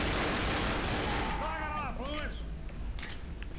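Dual pistols firing in the video game Left 4 Dead, bursts of shots mixed into loud, dense game noise as a player's voice talks over the action.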